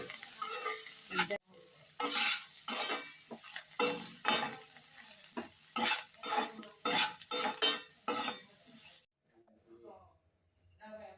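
A liver fry with amaranth leaves and coriander is stirred in a hot kadai after the stove is switched off. A spoon makes repeated rhythmic scraping strokes against the pan over a soft sizzle, then it fades to quiet.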